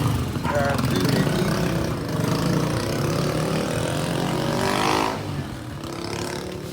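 A Honda PCX150 scooter fitted with a JVT Power Pipe exhaust idles and revs, a steady throaty putter swelling into a couple of rising revs, with people talking alongside.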